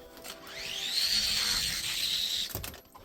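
A small diecast toy car rolls quickly down a track with a rising, whirring hum that builds, holds, then ends in a clatter.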